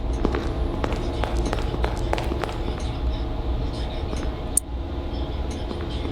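Footsteps of an animatronic in the horror video game Forgotten Memories, several irregular thuds under a steady low in-game rumble, with one sharp bang near the end.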